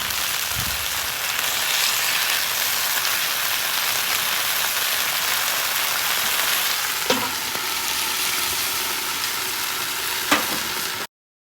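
Chicken sizzles in barbecue sauce on a flat top griddle, a steady, close, even frying hiss running throughout, broken by a couple of sharp metallic clinks from a spatula before stopping abruptly.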